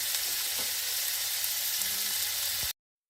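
Turtle meat frying in a pan, a loud steady sizzle and crackle with occasional faint stirring sounds, lasting a few seconds before cutting off abruptly.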